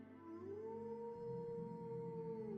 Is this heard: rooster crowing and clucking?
no